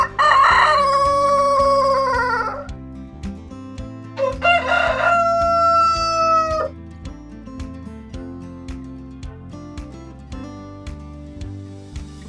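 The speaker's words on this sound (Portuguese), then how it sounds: "Galo, rooster, é um animal que fornece carne" A rooster crows twice nearby, two long loud calls a couple of seconds apart, followed by scattered softer clucking.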